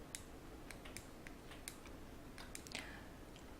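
Computer keyboard keys are pressed for Blender shortcuts, sounding as a few faint, scattered clicks and taps, some in quick pairs, set against a quiet room.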